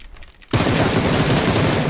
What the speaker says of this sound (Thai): พี่เกียร์ยิงปืนก่อน